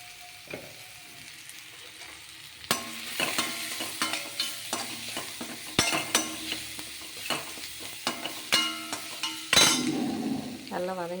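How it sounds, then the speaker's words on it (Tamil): Spices and salt sautéing in a pan for bitter gourd kuzhambu, a soft sizzle under frequent sharp metal spoon scrapes and clinks against the pan, close by, with a brief faint voice near the end. "நல்லா வதங்கிட்டுருக்கு."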